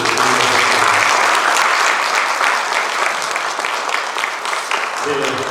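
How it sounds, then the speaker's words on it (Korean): A crowd applauds steadily and loudly for several seconds, a dense wash of clapping with no pauses. "한번 크게 박수를"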